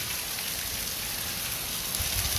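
Steady, dense hiss of rain falling, a constant wash of noise with no breaks and no voices.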